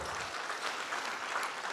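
A room of charity auction guests applauds, a steady mid-level wash of many hands clapping together that fills the whole moment without voices standing out.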